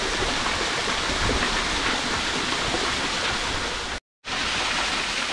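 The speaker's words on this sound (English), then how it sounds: "So the waterfall behind me, you can't climb up it." Waterfall in Kanab Creek canyon in the Grand Canyon, a constant rushing roar of falling water heard steadily up close, broken by a momentary silent gap.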